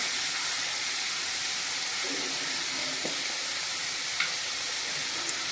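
Spring onion greens sizzle softly in a pan with a steady, faint hiss and a few light scrapes and clicks as they are stirred, with no voices.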